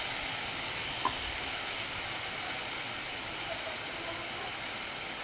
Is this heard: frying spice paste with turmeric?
yes